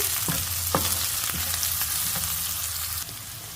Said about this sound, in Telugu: ఈ వైట్ పార్ట్ ఉల్లికాడ ఉంటుంది కదా అది కూడా వేసి ఫ్రై చేస్తున్నాను